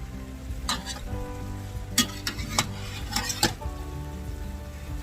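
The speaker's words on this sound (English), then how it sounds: "he's going to start dropping the cheese in, and then he's going to stir it in" Velveeta cheese is stirred into chili mac in a hot pan, the food sizzling steadily while a spoon scrapes and clinks against the pan in several close strokes.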